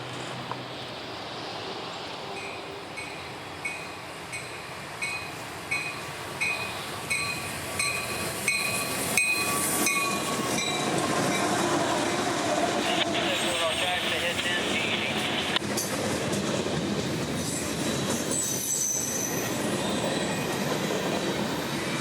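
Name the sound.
CSX freight train M453 led by rebuilt SD70 passing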